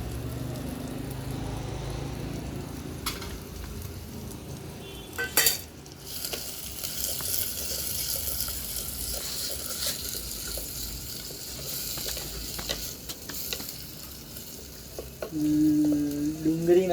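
Onions fry in a pan on a wood stove, giving a low, steady sizzle with occasional clanks and scrapes of a utensil against the pan.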